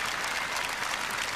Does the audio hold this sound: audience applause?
yes